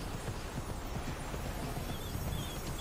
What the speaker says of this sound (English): And riding the rest of the way on the horse.